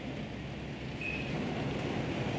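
Steady rain falling outdoors, a continuous broadband wash that swells slightly louder partway through, with no voices.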